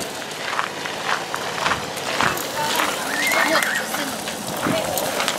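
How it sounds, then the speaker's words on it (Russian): Small ponies walking on a Swedish farm, hooves clopping softly and irregularly nearby, with a whinny-like call and outdoor background noise. "Только что проходили здесь девочки с пони, лошадки маленькие."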